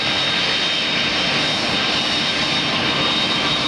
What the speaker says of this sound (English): Airplane's about to block in the gate.